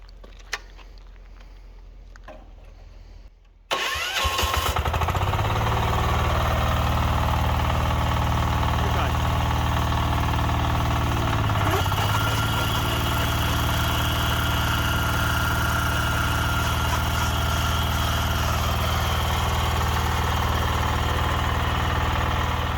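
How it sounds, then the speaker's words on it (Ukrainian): Weima WM 1100BE6KM walk-behind tractor with an active tiller attachment, quiet rustling at first, then the engine catches abruptly and settles into a loud, steady, low rumbling idle that continues close by. "Запускаємо мотоблок."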